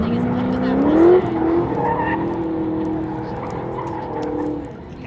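A Ford Mustang drifts in tandem with another car, its tires skidding and squealing in a sustained, rising howl over loud engine roar that fades slightly toward the end.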